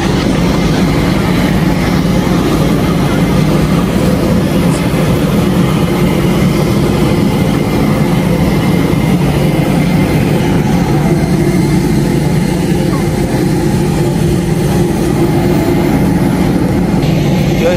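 Steady, loud, low engine roar fills an airplane cabin on a flight home to the UAE from Zvartnots Airport in Armenia, an unbroken drone with faint background murmur.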